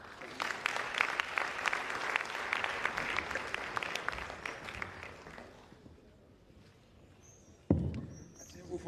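Applause at a Sierra Leone meeting of the tripartite committee and electoral commission, a steady crowd of clapping for about five seconds that fades into a quiet room before a loud thump.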